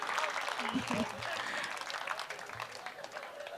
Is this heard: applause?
yes